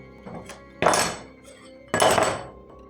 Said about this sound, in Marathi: अचानक त्याला किचनमध्ये भांडी पडण्याचा आवाज आला